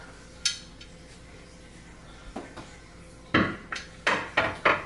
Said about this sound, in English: So now we're going to take our lid off